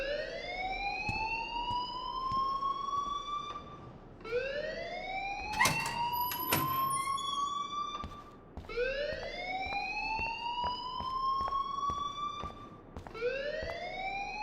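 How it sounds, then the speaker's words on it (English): Fire alarm in the video game Life Is Strange, a loud electronic siren sweeping upward in repeated rising whoops, steady and close, with a few sharp clicks and bursts layered over it and no talk. "please turn off that alarm since that's your job"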